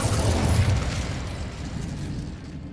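An Incendio fire spell cast in Hogwarts Legacy, a whooshing, roaring burst of flame near a witch's sarcophagus in a tomb, strongest at the start and then settling into a steady rushing rumble that fades toward the end.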